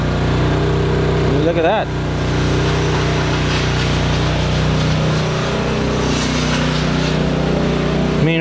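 A gas-powered engine idles at a steady, droning pitch, close and constant throughout, while someone briefly speaks over it.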